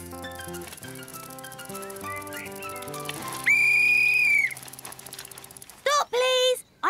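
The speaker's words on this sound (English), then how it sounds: "Trotro, can I play at whistling with you?" A high, steady whistle blast holds for about a second, then two shorter piercing toots follow near the end, over busy background music.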